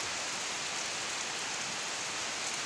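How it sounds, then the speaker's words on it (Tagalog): Heavy rain from Typhoon Kristine pours steadily in the Philippines. The hiss is dense and unbroken, sounds fairly close, and no talk is heard over it. "Lakas ng ulan mga idol."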